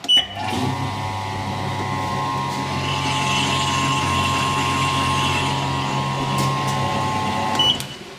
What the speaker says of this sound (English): And you can listen to the drain pump.